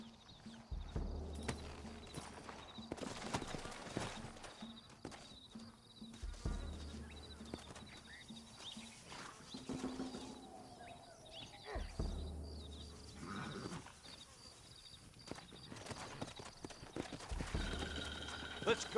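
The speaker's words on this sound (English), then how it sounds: "Looks like Carlos left us some horses." Several horses in Red Dead Redemption clip-clop along at a trot with occasional whinnies, hooves beating in a steady rhythm under faint background noise.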